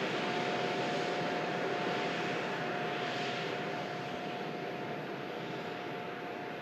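An aircraft at Manchester Airport gives off a continuous distant engine roar, a broad steady rumble with a faint high whine that holds level and fades slightly toward the end.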